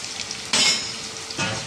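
Oil sizzles and crackles steadily, with a loud hiss bursting in about halfway through as ginger hits the hot pan, then a second flare near the end.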